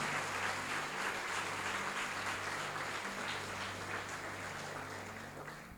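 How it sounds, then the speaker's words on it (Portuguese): Church congregation applauding during a Sunday service at an evangelical church, a steady dense wash of clapping held throughout at fairly low level, with a sustained musical tone underneath and no speech. "Aplauda e glorifica o nome dele."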